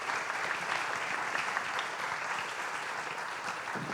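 A crowd at an exhibition opening at IMS Paulista applauds warmly, producing steady, dense clapping that runs evenly throughout with no voices on top.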